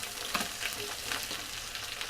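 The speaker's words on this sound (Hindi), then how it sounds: "प्याज को डालकर इसे फ्राई कर लीजिए" Chopped onions fry in a pan over a medium flame for chicken curry, a soft, continuous sizzle with faint stirring scrapes, fairly quiet and close, with no voices.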